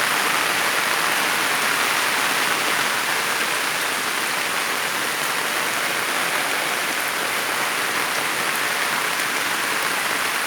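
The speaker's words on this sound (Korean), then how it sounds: "이렇게 많은 물들이 흐르고 있습니다" Rainwater runs through furrows in a field on a rainy day, a dense, even hiss of falling rain and flowing water that holds steady and fairly loud throughout, with no talking.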